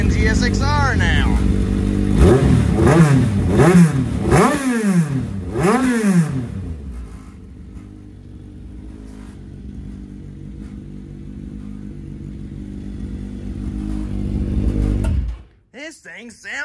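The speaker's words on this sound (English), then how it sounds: "It sounds like a freaking Gsxr now." A GSX-R 1000 motorcycle engine fitted in a dwarf car revs hard several times in quick bursts, loud and close, then settles into a steady idle before cutting off.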